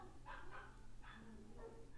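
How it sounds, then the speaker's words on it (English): A few short dog barks, faint and distant, scattered over a quiet background. "dogs barking."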